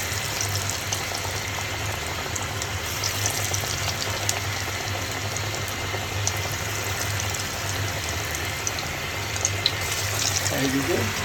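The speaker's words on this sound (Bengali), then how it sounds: "দেখেন আমাদের তেল গরম হয়ে গেছে, পেঁয়াজগুলো সুন্দর করে ভাজি।" Onions fry in hot oil in a home kitchen, making a continuous, even sizzle with faint crackles. A person talks over the frying.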